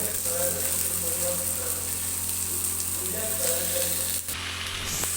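Tomato and meat sizzling in a hot pan, an even, fairly soft frying hiss with a faint crackle running throughout, a steady hum beneath and a brief clatter near the end.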